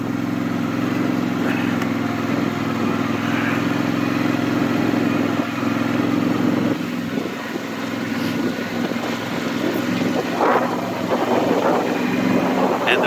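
A Polaris ATV running in all-wheel drive during an ice storm drones steadily and close throughout, with scattered crunching and rattling over the constant engine hum.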